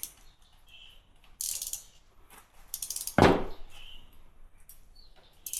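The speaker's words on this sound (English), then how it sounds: "unscrew this." A clean-out screw on a 2003 Harley-Davidson Sportster 1200 CV carburetor is worked loose, giving sparse metallic clicks and scrapes with one sharp, louder snap midway, close up and with no talking.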